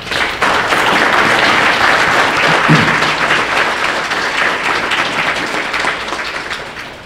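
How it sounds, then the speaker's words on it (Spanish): An audience at an art salon bursts into loud, sustained applause that fills the space from the start and slowly thins toward the end. "Por eso les pido un autosonoro aplauso."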